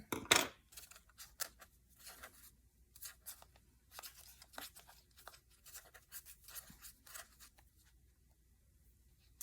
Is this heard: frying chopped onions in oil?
no